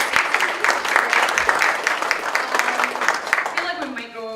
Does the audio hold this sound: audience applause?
yes